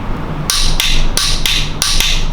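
Ratchet or wrench work tightening a bolt to 22 Newton meters on a BMW N62 V8 timing chain assembly: a rapid series of five sharp, loud metallic clicks at an even rhythm, close up over a steady background hum, no speech.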